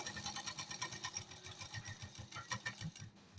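A sewing machine stitching cloth, running in a fast even rhythmic clatter of needle strokes, close but fairly quiet and alone.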